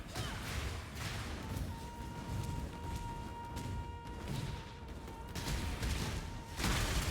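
Explosions from a Path of Exile skill crack and burst in irregular clusters over constant battle noise, with a thin sustained tone running underneath and no speech.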